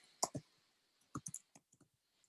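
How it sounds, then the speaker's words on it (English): Computer keyboard typing while writing an email: a few quiet, distinct key clicks in short bursts, a pair at first then a scattered cluster, in an otherwise silent room. "when I'm in here, you know, I can start typing my email"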